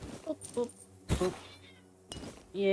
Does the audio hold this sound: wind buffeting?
no